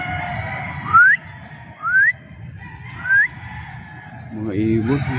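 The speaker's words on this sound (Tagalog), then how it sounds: "Mga ibon, oh, napaka-timic." Several clear rising bird whistles at UP campus among trees, one every second or so, with fainter high chirps between them, over a low rumble of background murmur and traffic.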